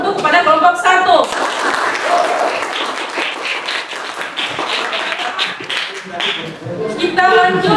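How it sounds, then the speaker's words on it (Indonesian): A classroom audience applauds group 1 after their discussion presentation, a dense patter of many hands clapping steadily for several seconds, with voices audible at the start and end. "Untuk itu kita memberi aplaus untuk kepada kelompok 1."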